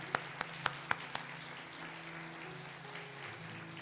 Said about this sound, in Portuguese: Dê uma salva de palmas ao Senhor em nome de Jesus.